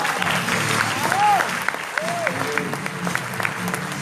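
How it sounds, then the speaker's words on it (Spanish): Applause at a testimonial talk, a small audience clapping for the speaker's daughter. The clapping is steady and moderately loud through the whole stretch, with a couple of brief whistle-like tones rising over it and voices mixed in. "un aplauso para ella"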